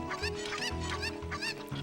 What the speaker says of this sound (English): Oh, the chicken got away!